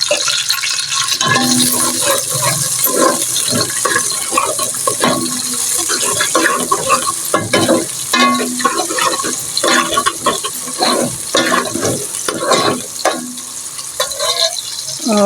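Onions fry in oil while being stirred, a continuous close sizzle with repeated scraping and clattering strokes of the spoon throughout.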